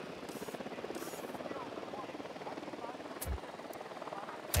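A helicopter in Ghost Recon Wildlands holds a steady, close rotor drone and thrum for the whole stretch, with brief bursts of other game sounds over it and a voice speaking underneath.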